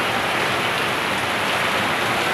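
Heavy rain pours outside in a dense, unbroken hiss, loud and steady with no other sounds standing out.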